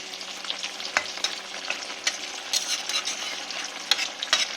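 Ridge gourd and shrimp curry in mustard sauce bubbling and sizzling in a pan over a raised gas flame, with a steady crackling frying sound and a few sharper pops and utensil clinks, close and alone.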